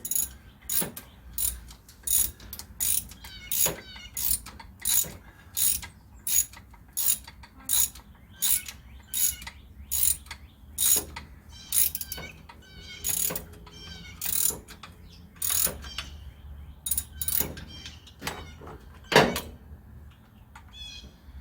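A hand ratchet snugs exhaust manifold bolts on a 1974 Dodge D100 with a 225 Slant Six, giving repeated close, sharp clicking bursts in a steady rhythm with brief pauses between strokes, no talking.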